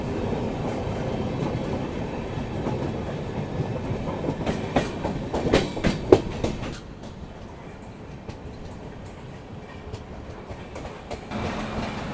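A passenger train rolls into Mansi Junction, its steady wheel rumble and rhythmic clickety-clack growing sharper with track clatter before easing to a quieter roll.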